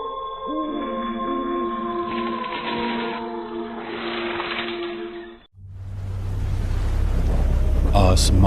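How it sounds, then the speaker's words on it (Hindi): Cartoon-style thunderstorm effect with heavy rain beating on the ground, a loud steady wash that follows a stretch of music, rumbling low underneath and continuing to the end. "हर तरफ जमीन पर गिर रही बारिश की बूंदों की तेज आवाज थी"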